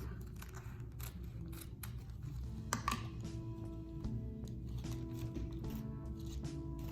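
Scissors cut an egg carton in half with faint, quiet snips and crunches of the cardboard, heard close up in a quiet room.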